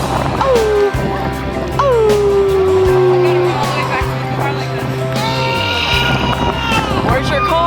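A dog howls and whimpers in a long, sliding wail that repeats, loud and close, with people talking nearby over a steady engine-like rumble after a nor'easter winter storm.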